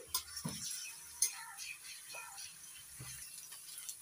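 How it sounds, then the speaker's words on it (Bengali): Garlic paste frying with onions in a pan, a soft steady sizzle broken by a few scraping stirs and light clinks of a utensil against the pan, with faint talk nearby. "রসুন বাটাটা একটু ভেজে নিচ্ছি"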